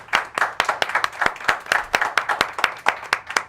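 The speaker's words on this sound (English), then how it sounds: "Let's round of applause for him, please" A small audience claps for a round of applause at a live band night, a scattered, uneven patter of individual hand claps, fairly close and sparse rather than a full ovation.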